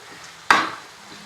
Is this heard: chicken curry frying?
yes